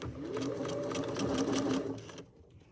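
A sewing machine runs a fast, steady buzzing stitch while back stitching the lining of a drawstring backpack, then stops abruptly, leaving near silence.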